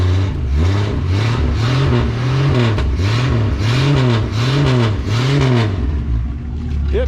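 A 1962 Ford Falcon Tudor engine with no muffler revs loudly in repeated rising-and-falling throttle blips, raw and close, settling toward a rough idle at the end.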